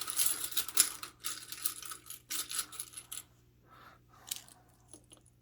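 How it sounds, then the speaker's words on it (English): Metal board game coins being dropped and handled, a quick flurry of bright clinks and jingles followed by sparser taps and rattles, close and fairly quiet with no talk. "I'm going to trade in these 5 dice for coins."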